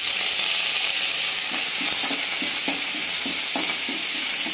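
Curry leaves frying in hot oil in a pan, a dense continuous crackling sizzle throughout with soft stirring scrapes underneath, close and loud, no talking.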